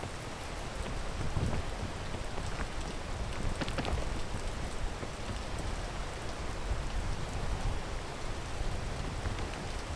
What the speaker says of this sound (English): I love rain sounds.